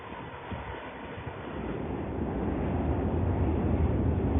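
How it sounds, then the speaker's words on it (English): A steady low rumble of a train rolling past at a distance, building gradually louder, with wind buffeting the microphone. "Trains going by."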